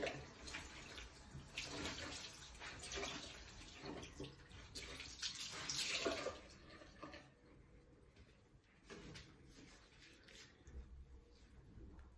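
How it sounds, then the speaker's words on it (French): Running tap water splashes steadily as a face is rinsed during a makeup-removal routine, a close, continuous wash of water that grows louder, then quietens to lighter trickling and splashing. "Donc là maintenant je vais donc me rincer."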